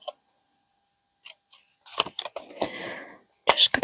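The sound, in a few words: scissors cutting out a fabric butterfly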